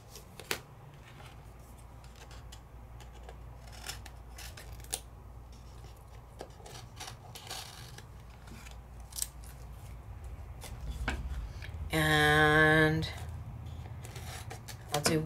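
Scissors trimming embossed cardstock in a scattering of sharp, close snips at a quiet level, with a brief voice sounding near the end.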